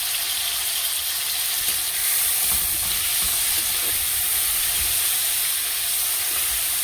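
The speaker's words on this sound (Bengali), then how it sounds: "মশলাটা ভাজা হয়ে গেছে" Spices with turmeric, salt and broken green chillies fry in a pan for breakfast pasta, giving a steady, loud, close hissing sizzle with no pauses and no talking.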